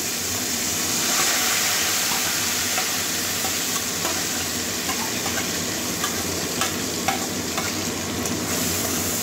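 Sliced onion, garlic and green chilies fry in a pan for a Bengali potato, pointed gourd and mushroom curry, giving a steady, close sizzle with faint stirring scrapes throughout and no voices.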